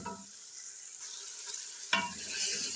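Mutton pieces fry in a karahi, a soft continuous sizzle with a brief stirring scrape partway through, fairly quiet and close.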